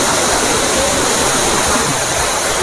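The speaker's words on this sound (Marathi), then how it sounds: "हे झाडाच्या मुळाने पाणी खाली येत आहे, आणि इकडे ही सतत धार लागली आहे" Water from the Susarondi waterfall at Nivoshi, Guhagar, spills over rocks and tree roots in a continuous, close, full rushing roar with no talking.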